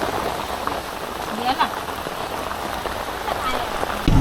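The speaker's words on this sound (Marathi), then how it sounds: "पाऊस आलाय मोठा." Heavy rain falls steadily on surfaces in a continuous hiss, moderately loud, with a few brief louder patters and a faint voice in the background.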